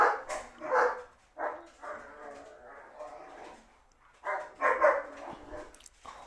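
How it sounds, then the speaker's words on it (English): Several dogs bark in bursts, fairly close and loud, with short pauses between volleys and a yip or whimper mixed in. "Let me check on these dogs."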